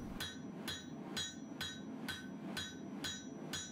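A hammer strikes a steel blade being forged from a worn-out gun barrel, with eight sharp ringing blows at a steady, even rhythm and no talk between them.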